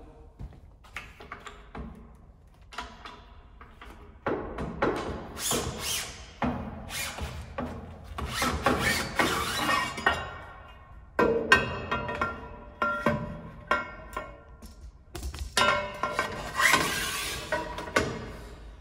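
A rip fence on a Robland Z500X3 panel saw is unlocked, lifted, turned around and set at an angle, giving a run of close metallic taps, knocks and clunks that come in irregular bursts with no talk.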